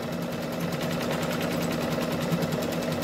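An embroidery machine sews a placement stitch with a fast, even mechanical whir and rapid needle pulsing, steady and close throughout with no talking.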